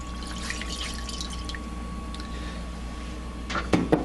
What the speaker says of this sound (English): After that, go ahead and add your soda and water.